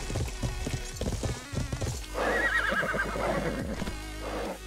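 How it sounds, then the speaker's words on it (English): Hooves clop in a quick rhythm, then a horse in a video game lets out a long, loud whinny close by. "Oh, my horse is tired."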